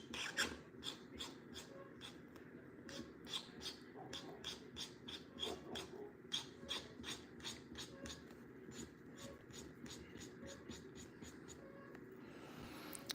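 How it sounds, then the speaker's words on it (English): Quiet, close-up rhythmic scratching of a marker stroking across a smooth sticker, repeated back-and-forth strokes with soft faint background noise. "Love the sound of markers."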